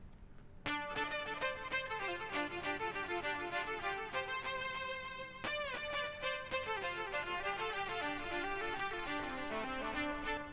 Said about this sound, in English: I applied reverb and chorus to my electric violin